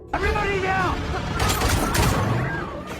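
Gunfire rings out in a film scene as soldiers shoot at a driver, a cluster of sharp bursts and impacts mixed with a shouting voice, a revving vehicle and chaotic action sounds.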